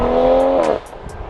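A sports car's engine and exhaust drone loudly while driving, then the note drops off abruptly after a moment, leaving faint road noise.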